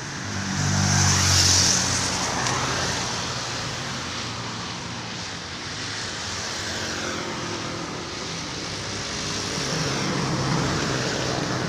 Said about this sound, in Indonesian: Duta Prima ya, medium bus, barusan melintas ke arah Tasik.